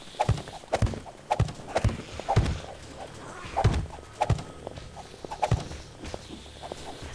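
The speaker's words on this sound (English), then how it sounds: "I think I'm listening to my own footsteps and getting freaked out." Player's own footsteps in 7 Days To Die, a steady run of hard, clopping steps about every half second, close and fairly crisp, with no voices over them.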